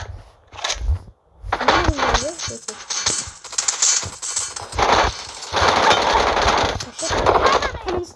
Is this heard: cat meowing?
no